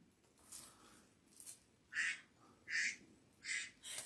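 A phone's duck-quack text alert, with four or five short nasal quacks in a rhythmic series from a small speaker, fairly quiet against a faint room background.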